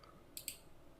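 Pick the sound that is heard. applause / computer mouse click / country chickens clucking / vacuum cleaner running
computer mouse click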